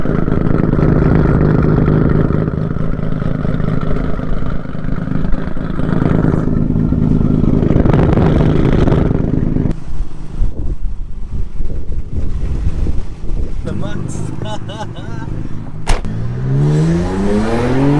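A German car with a 3.2 V6 accelerates hard in second gear, its engine note loud and rising with heavy wind rush, likely heard from inside the car, until a sharp shift near the end.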